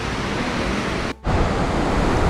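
Jeongbang Waterfall on Jeju pouring straight into the sea: a loud, steady broadband rush of falling water, broken only by a brief dropout partway through, with no talk.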